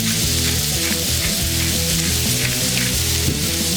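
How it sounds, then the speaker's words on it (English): Thinly sliced ribeye steak seasoned with kosher salt and cracked pepper sizzles loudly and steadily on a hot cooking surface, a dense, continuous frying hiss with no talking. "We're going to throw down our ribeye steak that we thinly sliced. We're going to get that going."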